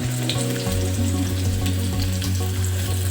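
Onions sizzling in hot oil in a pan for street-style masala Maggi, a loud steady crackling fry close up with a hum underneath and no talk.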